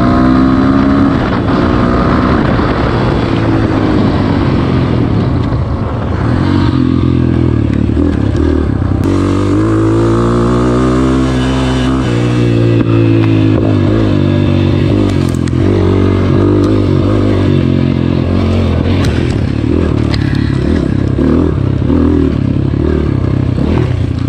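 A GPX FSE 250 E dirt bike runs in third gear along a trail, its engine droning loud and steady throughout, with the pitch rising and falling as the throttle changes and some rattle and scrape from the ride.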